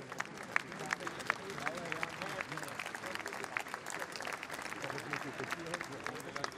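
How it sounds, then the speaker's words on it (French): Crowd applause for a company CEO during a speech on reindustrialisation in Dunkirk, steady clapping with sharp individual claps standing out, heard at moderate distance with crowd murmur mixed in. "On peut l'applaudir."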